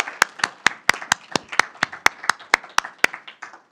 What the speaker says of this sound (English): Vice President a round of applause